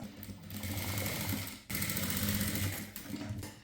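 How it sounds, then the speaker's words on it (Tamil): A sewing machine runs steadily and close by, stitching canvas onto the front neck of a blouse in two quick bursts with a brief pause between them, with no talking. "இப்போ இந்த மாதிரி வச்சுட்டு இந்த 1/2 இன்ச்சில் நம்ம தையல் போடணும்"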